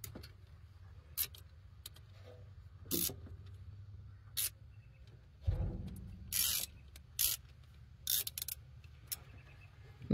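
A ratchet wrench with a new DeWalt socket clicking in short bursts, separated by pauses, while someone works on a 1963 Ford F-100; the mechanical ticks are close and fairly quiet against a low background hum.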